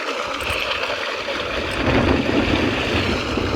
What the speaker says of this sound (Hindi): जमीन से पानी आ रहा है